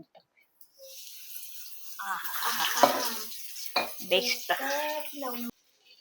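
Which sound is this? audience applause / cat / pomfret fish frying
pomfret fish frying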